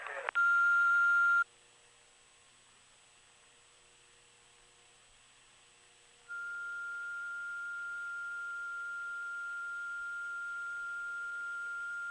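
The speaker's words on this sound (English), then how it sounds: "At the tone, you may then continue with your parts order." Early 1980s analog answering machine tones: a short loud electronic beep burst, a few seconds of quieter steady tone, then a long sustained pure beep that continues to the end, with no voice over it.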